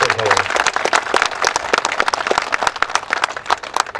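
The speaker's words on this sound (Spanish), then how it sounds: "Yo pido un aplauso para Reginaldo" At an International Women's Day event in Monclova, Coahuila, a crowd breaks into uneven, sharp clapping, individual hand claps standing out within the applause while voices murmur underneath.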